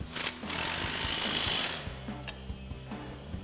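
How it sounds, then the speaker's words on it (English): An 18 mm socket and wrench tighten a mounting nut on a Jeep Wrangler JK during a suspension lift install, giving a fast buzzing ratchet burst followed by several slower separate clicks, close and moderately quiet. "we'll go ahead and grab our 18 mil wrench and 18 mil socket and go ahead and get this tightened down"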